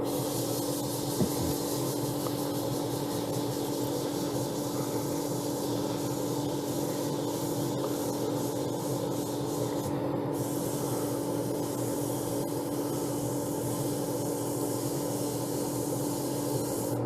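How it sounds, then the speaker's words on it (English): A steady, unbroken abrasive hiss of 180-grit sandpaper rubbing the base of a wood-turned piece spinning on a lathe, continuous and fairly loud throughout with no talking. "So I can sand and finish the bottom of that. So again, back to probably 180 grit there."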